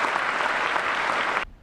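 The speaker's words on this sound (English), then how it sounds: "Let's give them another round of applause" Audience applause at an enlistee ceremony, a dense sustained clatter of many hands clapping that cuts off abruptly near the end.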